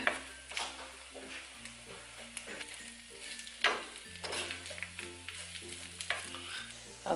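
Low carb breakfast sizzling gently in a pan on medium-low heat, a steady soft frying crackle with occasional stirring scrapes and clinks, moderately close, with no talk.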